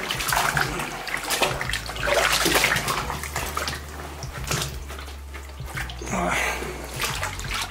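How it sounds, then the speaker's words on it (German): A vintage Carhartt jacket is soaked and pressed down in a tub of water, giving sloshing, splashing and gurgling close up in uneven bursts, with someone talking intermittently over it. "jetzt ist die Jacke prinzipiell in dem Wasser drin"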